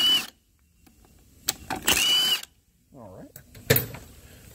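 A power tool backs out T45 bolts from a Ford Focus DPS6 transmission, dusty and jammed, in several short loud whirring bursts separated by pauses, with someone speaking briefly between them.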